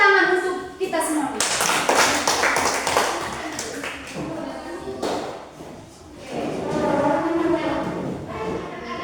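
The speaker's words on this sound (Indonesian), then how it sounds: "Sekali lagi tepuk tangan untuk kita semua." A classroom of schoolchildren claps in a burst of applause, with scattered taps and thumps, while a teacher's voice and children's chatter carry over the clapping.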